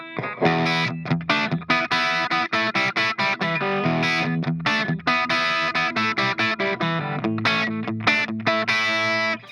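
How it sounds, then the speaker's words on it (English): Electric guitar through a Hughes and Kettner Grandmeister Deluxe 40 amp on its crunch setting, lightly overdriven, crunchy but tight, playing a steady rhythmic riff of chopped chords and notes with little low end. "Which is a very slightly distorted sound, which is really tight and focused with not really much bass"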